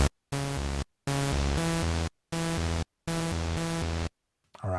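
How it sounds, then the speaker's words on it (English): A Moog synthesizer plays a loud, buzzy, harmonically dense pattern of short stabbed notes in a repeating rhythm, with brief silent gaps between groups of notes. "And Moog 1 sounds like this."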